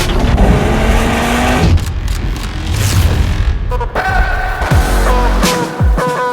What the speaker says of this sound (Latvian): šī ir viena no atpazīstamākajām izplūdes skaņām auto pasaules vēsturē